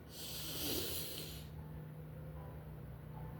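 A single slow, deep inhalation heard up close and quiet, a soft airy breath that fades into near silence.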